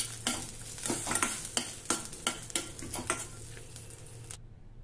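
Green chillies, cumin seeds and a few fenugreek seeds fry in a pan, giving a steady close sizzle broken by repeated sharp scraping stirs, with no voices.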